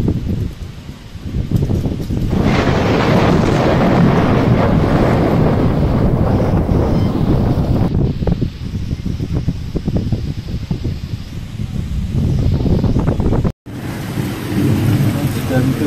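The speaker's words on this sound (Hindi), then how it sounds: "वर्षा देखो चारिआडे" Heavy monsoon rain pours steadily with rumbling thunder, loud and continuous, buffeted by wind noise on the microphone, with a brief dropout near the end.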